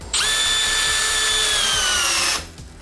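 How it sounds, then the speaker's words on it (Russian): A Milwaukee M12 cordless screwdriver driving a lag screw into wood, one loud, close, steady motor whine lasting over two seconds and then cutting off sharply. "нам нужно закрутить подобный глухарь. Начнем с мелкой Milwaukee."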